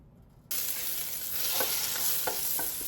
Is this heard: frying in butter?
yes